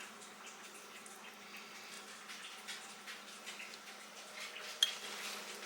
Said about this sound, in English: Next, I'm going to layer on my spaghetti sauce